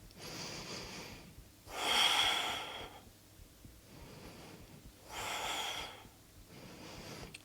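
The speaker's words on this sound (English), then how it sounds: "Just breathing here." Slow, audible breathing during an advanced yoga backbend in king dancer pose, two long breathy exhalations a few seconds apart with quiet pauses between, close and alone with no talk.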